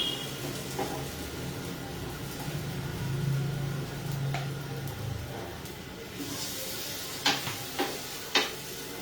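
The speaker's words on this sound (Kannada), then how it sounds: "ಕಡಿಮೆ ಫ್ಲೇಮಲ್ಲೇ ಫ್ರೈ ಮಾಡ್ಕೊಬೇಕು, ಯಾಕಂದ್ರೆ ವೆಜಿಟೇಬಲ್ ಎಲ್ಲ ಸಾಫ್ಟ್ ಆಗ್ಬೇಕಲ್ವಾ" Vegetables frying in a pan over a low flame give a steady soft sizzle with stirring, and a few sharp clinks of a utensil against the pan come near the end.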